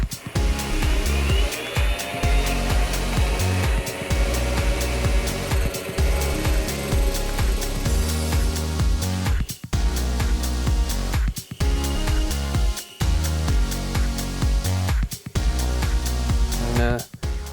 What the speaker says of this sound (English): All right, we're gonna go to my lathe and cut this barrel.